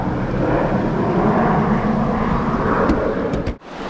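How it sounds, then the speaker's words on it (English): Firefighting airplanes fly over a lake and scoop up water during forest fires, making a loud, steady, broadband roar that holds for several seconds and then drops away abruptly near the end, with no talking. "Those airplanes are flying over and dipping up water from the lake."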